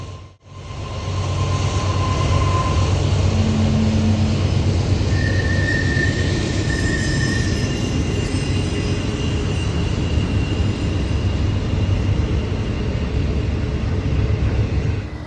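A train rumbles past at close range for the full stretch, steady heavy rolling noise with wheel squeal and a brief higher whine, no voices, in Altoona, Pennsylvania.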